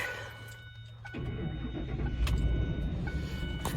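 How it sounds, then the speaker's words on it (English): A Ford F150 pickup engine starts up after an oil change: near silence gives way to a sudden cranking catch and a rough, rising idle that settles into a steady running rumble. "So now I'm going to start up the truck."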